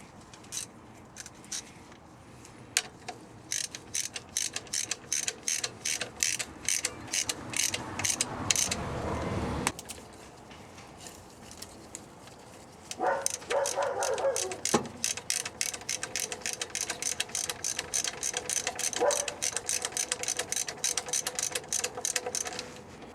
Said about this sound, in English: Get your ratchet and your wrench ready.